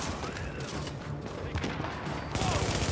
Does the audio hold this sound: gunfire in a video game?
yes